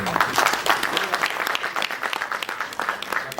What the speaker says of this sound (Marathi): मला वाटतं जोरदार टाळ्या वाजत